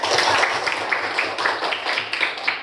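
Classroom applause for a student named Maria, a brief round of scattered hand clapping from a group of students, moderately loud with uneven rhythm and some voices murmuring underneath.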